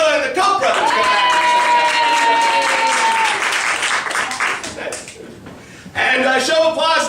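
Studio audience applauding loudly at a live comedy show, a dense burst of clapping and cheering that fades, then swells again near the end, with voices mixed in.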